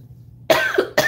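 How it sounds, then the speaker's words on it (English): Two sharp coughs from a person, close and loud, the first longer and the second a brief follow-up, with no talk. "I'm going to have a coughing fit"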